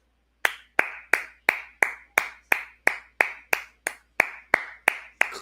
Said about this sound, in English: Clap for him. Clap for him. Just clap for him.